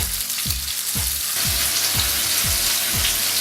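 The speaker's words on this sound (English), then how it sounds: "Remember when you cook steaks on a grill pan to leave them in the same place so you get a really nice line effect." Steak sizzles loudly on a grill pan, a constant bright hiss up close, with a low thump recurring about every half second beneath it.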